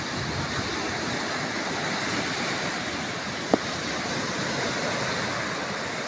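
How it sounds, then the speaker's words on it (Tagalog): Ocean waves crash and roll onto the shore in a steady, broad roar of surf, with one brief sharp knock partway through and no talking. "Kapag humampas yung alon, grabe talaga oh."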